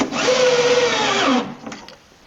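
A power drill drives a 1.25-inch pocket hole screw into oak while building a wardrobe, a loud close whine rising in pitch for over a second before stopping abruptly, followed by faint handling clicks.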